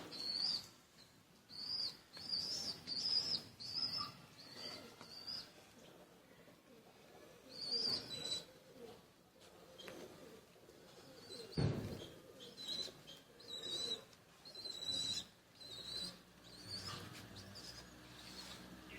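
Pigeons and their newly emerged chicks call from a loft, soft repeated coos mixed with high chirps and occasional wing flaps, intermittent bursts across a quiet background.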